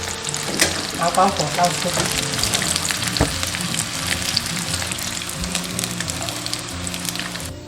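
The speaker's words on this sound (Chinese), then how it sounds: "升到7、8成热，下入排骨，炸个10秒左右就可以了。" Pork ribs deep-fry in hot oil with dense, bubbling crackle and sizzle that stays loud and close throughout; a person speaks briefly over it.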